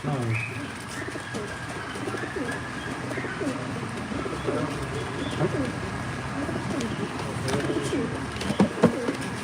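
Many breeding pigeons cooing in a steady, rolling chorus close by at a live pigeon auction in Batman, with a few sharp taps and a brief voice in the background.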